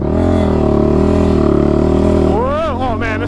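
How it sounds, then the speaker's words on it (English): A built Honda TRX450R ATV engine revs hard and steadily up close, its loud droning tone holding, then sweeping up and down in quick throttle blips near the end, with a voice faintly over it. "Man, it revs."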